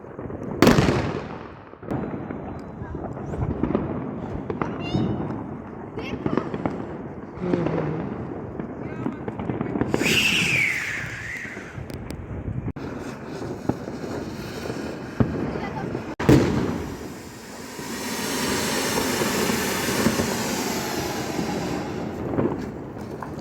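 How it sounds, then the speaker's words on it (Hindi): Diwali firecrackers burst repeatedly in a dense, crackling stream with sharp individual bangs, loud and close, while people talk and shout throughout. "बेसिकली हमने पटाखे फोड़े।"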